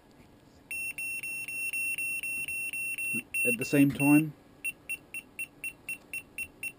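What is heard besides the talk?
electronic receiver beeping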